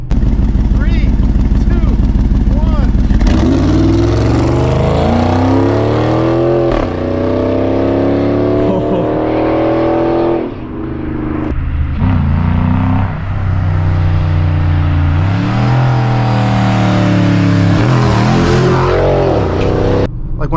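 A Dodge Charger R/T engine and new exhaust drone loudly while driving, rising and falling in pitch through gear changes and revs, steady and close throughout.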